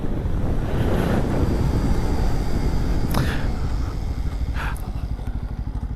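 A Bajaj Pulsar 250N motorcycle rides along with a steady engine drone buried under heavy wind rush, close and continuous.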